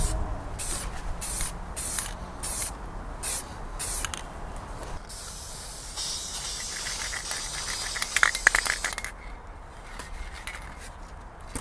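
Rust-Oleum and Krylon camouflage spray paints hiss onto samples on a Charvel Desolation guitar project: short rhythmic bursts of aerosol spray, then a longer sustained hiss, with a can rattling briefly near the end.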